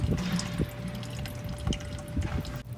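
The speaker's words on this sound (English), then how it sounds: "Got it coming through that filter. And it's just draining that filter now." Diesel fuel trickling steadily from the fuel filter of a 2018 Ram 2500 into a catch pan, a continuous close liquid flow with small splashes and a faint steady hum.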